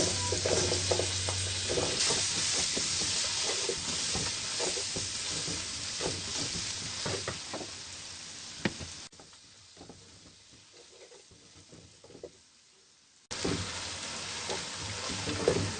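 Onions fry in a pan with ground spices, salt and turmeric, giving a steady close sizzle with occasional scrapes of stirring; the sizzle quietens for a few seconds before returning at full strength.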